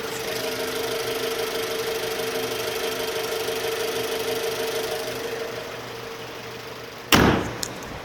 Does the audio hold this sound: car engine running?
yes